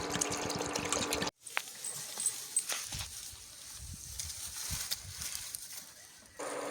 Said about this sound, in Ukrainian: Водичку наливаємо по плечики,